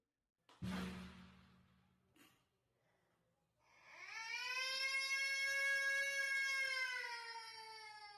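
A brief snort and breathy noise, then a long wailing siren-like tone that swells and holds steady, loud and close.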